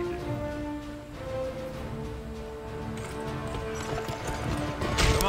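Horse hooves clip-clopping at a steady walking rhythm, moderately close over light background ambience, with a faint whinny-like tone and no speech.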